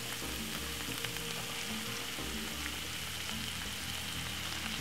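Garlic prawns in butter sizzle loudly and continuously after white wine goes into the pan, a dense even hiss and crackle filling the whole stretch with no voices.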